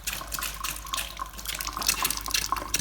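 Water runs steadily from a tap in a glamping bathroom, a continuous close splashing hiss that stays fairly constant throughout.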